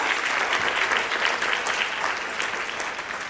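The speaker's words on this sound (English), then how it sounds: "Let's give a huge round of applause." A large audience at an evening award ceremony for a Gita chanting competition claps steadily in a dense, continuous wash of applause that holds from start to finish.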